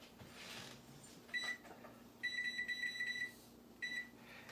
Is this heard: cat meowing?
no